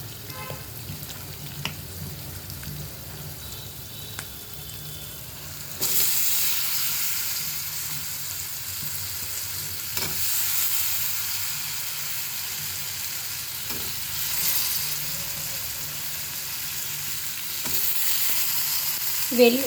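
Eggplant pieces frying in a pan for a dried-fish and eggplant curry: a steady close sizzle that swells louder partway through as the pieces hit the hot oil, then keeps hissing evenly with no talking.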